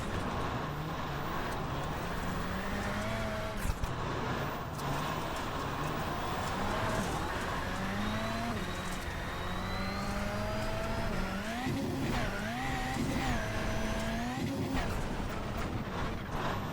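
A rally car engine in iRacing rallycross at Crandon runs continuously loud, rising and falling through revs and gear changes, with other engines nearby and speech partly over it.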